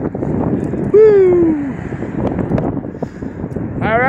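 Wind gusting across open ground in Cunningham Park, a steady rushing roar filling the clip, with a dog's brief whine or yelp and a short voice cutting through partway.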